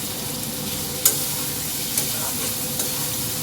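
Boiled eggs go into frying spice masala in a pan, keeping up a steady close sizzle with a few sharp stirring clicks against the cookware and no voices.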